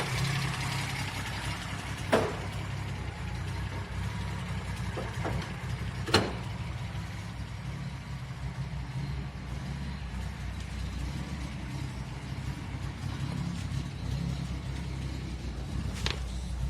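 A Datsun car engine runs at a low, steady idle-like rumble, faint and continuous, with a few soft knocks and clicks from inside the car.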